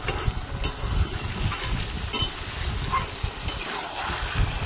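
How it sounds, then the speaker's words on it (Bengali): A spatula stirs Malabar spinach and pumpkin curry in a pan, scraping and sizzling steadily up close with periodic louder strokes against a continuous frying hiss. "এবার আমি নেড়ে দেবো।"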